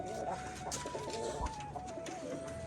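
Pigeons kept in a cage, the original Rajshahi breed: soft, close cooing and low murmuring calls that run throughout over faint background noise.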